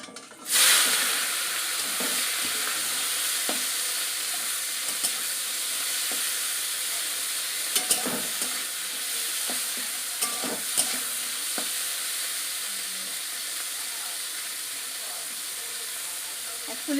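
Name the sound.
prawns frying in hot oil in a wok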